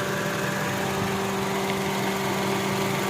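A car engine idling with the air-conditioning compressor running, a Honda City GM compressor fitted, producing a steady hum with a constant tonal drone and even vibration, unchanging and close, with no talk.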